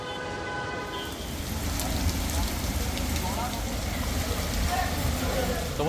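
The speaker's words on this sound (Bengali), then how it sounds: "পুরীতে এমন ঝড় বৃষ্টি শুরু হয়ে গেছে" A storm lashes Puri beside a rough sea, with heavy rain and gusting wind forming a loud, continuous roar that swells slightly after the first second.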